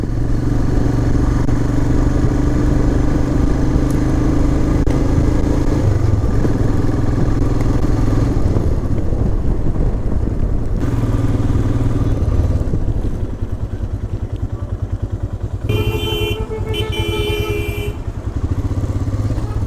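A motorcycle rides along the Rudraprayag bypass road in Uttarakhand, its engine droning loud and steady for the whole stretch with wind rush, then easing off slightly near the end.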